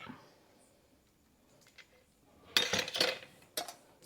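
Carrot and cauliflower pickle pieces are mixed with oil in a bowl. After a quiet start, a loud burst of clinking and scraping comes midway through, then a single sharper clink near the end.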